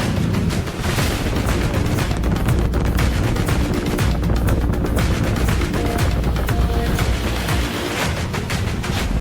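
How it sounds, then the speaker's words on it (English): A SpaceX Starship rocket lifts off with a loud, sustained crackling roar that rumbles without a break and fades slightly near the end, with no voices over it. "We have liftoff."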